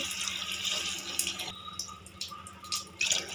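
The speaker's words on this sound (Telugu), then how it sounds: "టూ గ్లాస్ వాటర్ యాడ్ చేసుకోవాలి" Water from two glasses poured into a cooking pot for mushroom pulao, a steady splashing pour running throughout at close range, with no talk.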